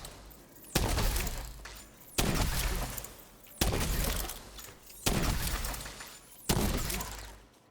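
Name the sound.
cannons firing in a video game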